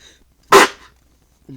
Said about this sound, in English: I just kind of sneezed